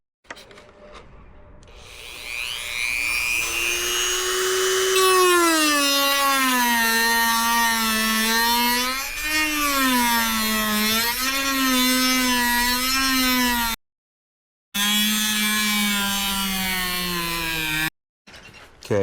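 A power tool cutting and sanding a plastic speaker mount for a 2018 Honda Goldwing gives a loud, sustained whine that rises and wavers in pitch as it bites, broken by two brief cutoffs, with no talk.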